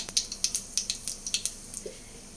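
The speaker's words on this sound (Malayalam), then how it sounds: "ഇതിലേക്ക് ഒരു കാൽ സ്പൂൺ കടുകിട്ട് കൊടുക്കാം" A quarter spoon of mustard seeds dropped into hot oil in a pan for a Kerala green gram curry, giving a quick run of sharp, light pops and crackles close by, with no talk.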